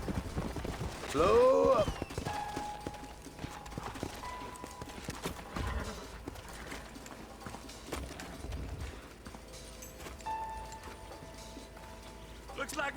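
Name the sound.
horses' hooves clip-clopping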